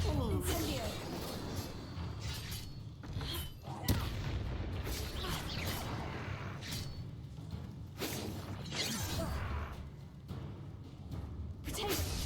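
Combat in the Hogwarts Legacy video game, with the Incendio fire spell cast amid repeated whooshing blasts and sharp booming impacts, dense and noisy, with voices speaking over the fight.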